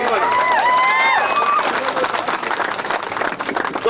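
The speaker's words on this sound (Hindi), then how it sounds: "जोर से तालियां बजाइए एक बार।" An audience applauding for a home minister at the opening of a minority residential school building. A crowd claps and murmurs with sustained, moderately loud applause, and voices mingle with the clapping.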